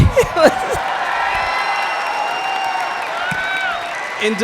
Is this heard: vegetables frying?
no